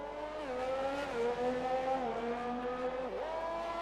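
A race car in a racing video game qualifying at a Japan circuit drives through the final chicane, its engine droning loudly with pitch dips as it brakes and downshifts, then climbing again under acceleration.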